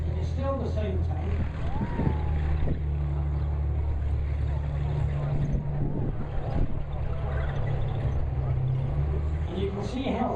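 A tank at Tankfest rumbles with a deep, steady engine drone throughout, under continuous speech from a nearby talker.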